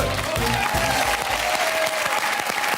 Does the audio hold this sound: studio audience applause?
yes